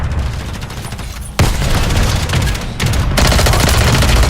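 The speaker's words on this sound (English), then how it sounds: "Enemy precision airstrike." Enemy precision airstrike in a Call of Duty match: a sudden loud explosive impact followed by a sustained roar of blasts and rumbling debris, continuing alone at high volume.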